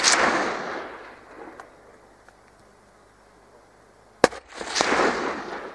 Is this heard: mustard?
no